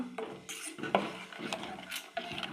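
A spoon scrapes and clinks around a metal pot in irregular strokes, stirring thick poppy seed payasam on the stove, close by and fairly quiet.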